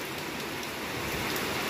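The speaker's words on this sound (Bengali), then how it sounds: "কীভাবে বৃষ্টি হচ্ছে দেখো" Heavy rain pours down in a dense, even hiss with no break, loud and close, nothing else standing out.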